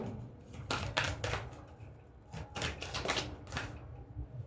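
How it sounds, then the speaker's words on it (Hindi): Tarot cards drawn one after another from a deck, giving a run of crisp slapping and shuffling bursts, close and fairly loud, with no talking. "अब आपके लिए कार्ड निकालते हैं यहाँ से"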